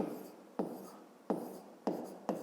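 Pen on paper writing out a fifth-grade math solution, four short scratchy strokes each starting sharply and trailing off, close and fairly quiet.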